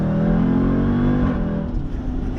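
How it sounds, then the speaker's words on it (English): A 2018 Jeep Trackhawk's supercharged V8 holds a loud, close rev, then the revs fall away and it settles into a rumbling idle, with no voices over it. "there's a big ass supercharged V8 that sounds"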